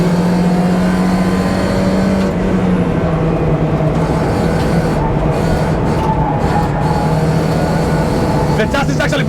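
An old race car engine drones steadily at close range on a track, its pitch shifting slightly as it drives, with a voice talking over it.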